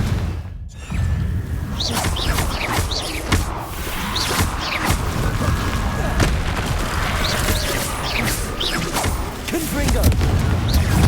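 Confringo blasting spells go off during combat in the video game Hogwarts Legacy: a dense, continuous barrage of booms, thuds and whooshing bursts with crackling impacts layered throughout, loud and close.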